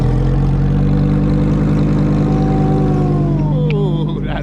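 A Lamborghini engine runs loud and close, a deep steady rumble that swells into a rev near the end, with brief voices in the background.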